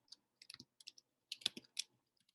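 Soft clicks of someone typing on a computer keyboard come in short, uneven bursts of keystrokes, close and quiet, with pauses between words.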